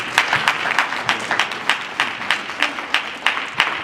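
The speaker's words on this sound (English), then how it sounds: "So I'd like to please give a round of applause for Deputy Chief Don Rush." An audience at a mayor's community coffee meeting gives a round of applause, a steady patter of many hands clapping close by with faint voices underneath.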